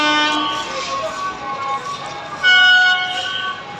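A train passing on a railway track near an underpass construction site in Anantapur sounds a long, sustained tonal horn, steady and fairly close, the horn swelling briefly louder toward the end.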